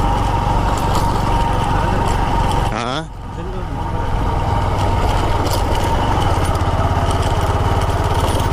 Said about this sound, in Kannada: ಸ್ಕೂಟಿ ಹೋಯ್ತಾ ಒಂದು ಗಾಡಿ ಹೋಯ್ತಾ ಇವಾಗ ಒಂದು ಸ್ಕೂಟಿ.